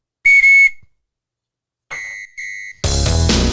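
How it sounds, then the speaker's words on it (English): A sports whistle gives one sharp, loud blast. Two shorter toots follow after a pause, and then loud music with a heavy beat suddenly kicks in. "Let's blow the whistle."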